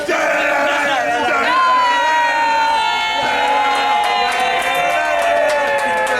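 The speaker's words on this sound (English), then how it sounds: "A very vocal crowd here in Manteca" An inebriated crowd at an independent wrestling show in Manteca yells and cheers loudly, with overlapping shouting voices and chant-like calls rising and falling continuously.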